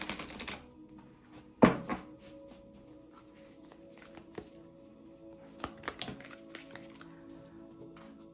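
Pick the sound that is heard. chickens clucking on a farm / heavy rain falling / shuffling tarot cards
shuffling tarot cards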